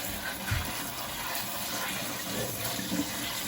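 Collard greens rinsed under a running kitchen sink tap, with a steady close rush of water and faint splashes as the leaves are tossed, no talk.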